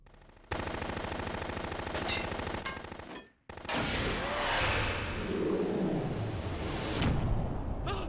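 Sustained automatic gunfire from the stealth action game Metal Gear Solid 2, a loud continuous burst that cuts off briefly, then resumes as a dense roar of firing mixed with whooshing and crackling effects.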